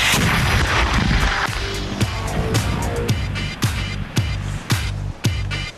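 A homemade cannon fires a single cannonball, a loud booming blast with rumbling aftermath, followed by several sharp impact-like bangs spaced through the rest of the clip.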